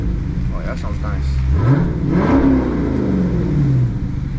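Dodge Challenger V8 muscle car with a newly fitted exhaust, revving in a few rising and falling pulls, loud and close, deep rumbling tone with a steady idle between blips.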